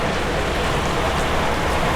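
Heavy rain falls during a fishing trip on a raft at Pasir Gogok, a dense and continuous hissing downpour that stays loud and even throughout, with no voices.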